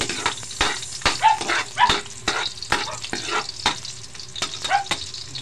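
Garlic frying in a pan until brown, a steady crackling sizzle with scattered sharp pops and stirring clicks, close and continuous throughout.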